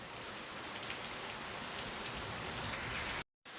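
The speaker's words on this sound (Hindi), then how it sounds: "तो हम लोग यहाँ से जो है ना बारिश का आनंद ले रहे हैं" Steady, dense rain pours down continuously on a garden, a loud hiss of drops on surfaces, with a brief dropout near the end.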